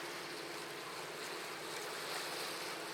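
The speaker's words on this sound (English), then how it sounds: "It's nice with the sounds of water." Water laps and washes steadily around a canal tour boat in Amsterdam, a continuous close hiss of moving water mixed with some wind noise, with no talking.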